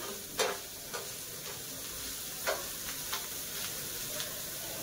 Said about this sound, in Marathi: तर कोबी आणि शिमला चांगला फ्राय झालेला आहे तेलामध्ये।